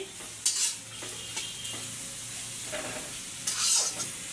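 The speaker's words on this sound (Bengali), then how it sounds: "এই যে বেশি করে পেঁয়াজ মরিচটা ভেজে নিচ্ছি।" Onions and chillies sizzle in hot oil for a fish curry, with a steady close fry broken by a few sharper scraping stirs.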